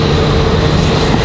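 A JetBlue airliner departing for Puerto Rico from Raleigh Durham airport, a loud, steady broadband jet engine roar filling the short moment without pause.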